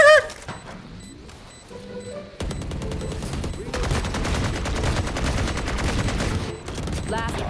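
Gunfire from the Judge shotgun in the video game Valorant, a few quick sharp reports at the start, then a long dense spell of loud, rapid shooting mixed with game effects, under excited talking from players.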